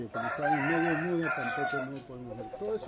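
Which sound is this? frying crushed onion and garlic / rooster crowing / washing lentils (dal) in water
rooster crowing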